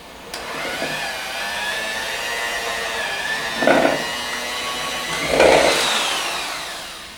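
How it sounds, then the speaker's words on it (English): An electric mixer whirs through cheese puff batter with a continuous high whine, close and fairly loud, swelling into two brief heavier surges as the beaters work the mix. "Now, we take our mixer and mix it all up."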